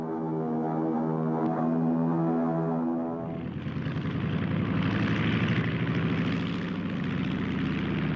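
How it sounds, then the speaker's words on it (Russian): A propeller-driven wartime plane drones in flight, first as a steady tonal engine hum, then a louder, rougher roar with fluttering pulses that swells after a few seconds, with no voices. "Самолет в воздухе."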